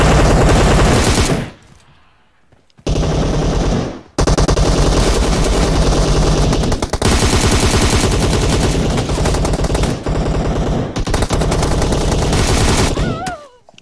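Rapid automatic gunfire from an ICM4 and an S12K in a team deathmatch shooter game, loud sustained bursts with brief gaps and a pause near the start.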